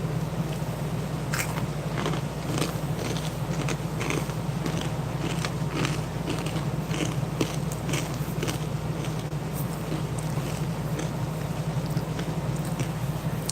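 Crunchy MRE corn nuggets from a First Strike ration are chewed close to the microphone, with steady repeated crunching bites and no talking.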